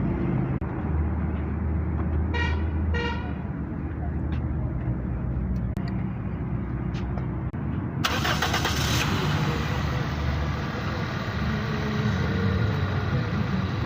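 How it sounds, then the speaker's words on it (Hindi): A Toyota 1.6-litre, 1600cc engine held at raised revs during an engine flush in an auto workshop drones steadily and loudly, with a brief harsh burst of added noise partway through. "थोड़ी रेस रखो, थोड़ी देर इतनी तो रेस थोड़ी दे के रखो"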